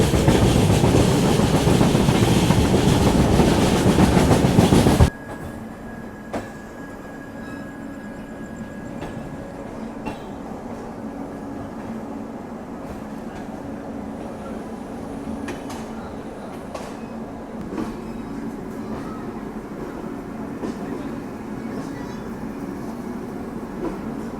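Shri Shakti AC Express passenger train running on rails, first a loud close rumble for about five seconds, then a steady quieter interior drone with occasional faint clicks and rattles.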